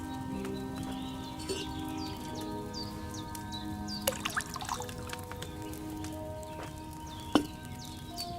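Liquid trickling steadily as wine is poured from a pitcher into a cauldron in the video game Kingdom Come 2, with faint clinks and a low background hum, no talking.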